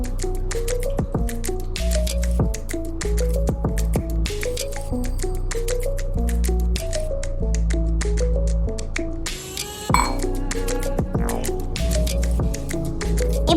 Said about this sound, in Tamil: இப்போ நம்ம தண்ணி ஊற்றிடலாம்